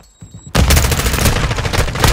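Modern Warfare 2 gunfire erupts after a brief quiet moment: loud, rapid automatic bursts that keep going without a break, close and dominant, with no speech over it.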